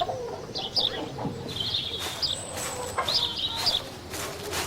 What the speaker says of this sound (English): I'll wait out here till you've done with the hens